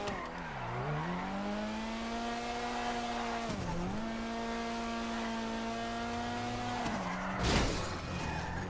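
A car in the video game GTA 5 revs through gear changes with engine pitch rising and dropping repeatedly, then a brief sharp burst near the end, loud and continuous with no talking.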